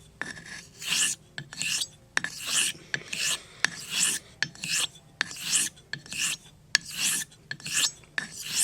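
Vintage Henckels 6/8-inch stainless steel straight razor being honed on a stone, with a steady rhythm of about a dozen close, crisp rasping strokes and brief pauses between them.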